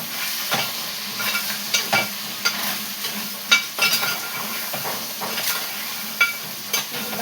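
Crabs stirred and frying in hot oil in a pan, a steady sizzling hiss broken by repeated scraping and clinking spoon strokes, close and fairly loud, with no voices.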